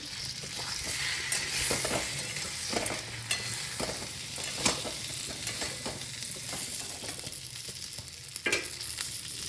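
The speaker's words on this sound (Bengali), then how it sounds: "এবার একটু কষে নিই" Fish heads sautéing in a frying pan with turmeric, cumin and coriander powder: a steady crackling sizzle with repeated scraping stir strokes, loud and close, no talk.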